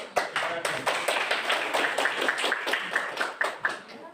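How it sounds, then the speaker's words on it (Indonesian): A classroom group claps together after a presentation, producing a steady run of rhythmic hand claps at a moderate distance. The clapping is fairly even and sits alone, with no talking over it. "Kita berikan aplaus"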